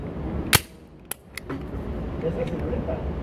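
Three sharp gunshots crack out in quick succession, the first loudest, over a low rumbling background.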